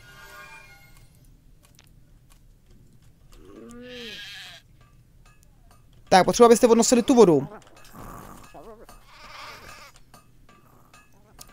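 Sheep bleating in the video game Craft The World, a short wavering bleat sounding between stretches of someone talking, with a loud clattering game noise in the middle.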